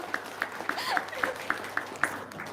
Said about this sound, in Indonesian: Chef, tepuk tangan dong.